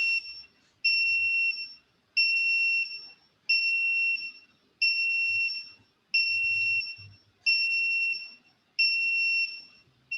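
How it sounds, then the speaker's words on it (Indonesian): An alarm on an IoT conveyor system sounding as the conveyor stops, a loud electronic two-tone beep repeating in even pulses about once every 1.3 seconds, with faint low background noises between pulses. "alarm berbunyi berputar dan conveyornya berhenti"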